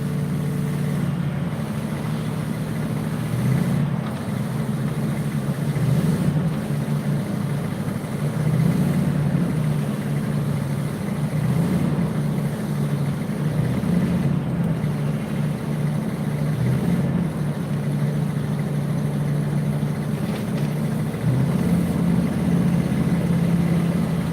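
An overheating car engine idles steadily and close by, a low continuous rumble with slight fluctuations, lasting throughout with no talking.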